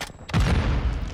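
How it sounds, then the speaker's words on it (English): A Semtex grenade going off in Modern Warfare 2 gameplay: a sudden deep boom after a short quiet lead-in, followed by a rumbling, crackling tail of gunfire-like bursts. "Put that Semtex to use there."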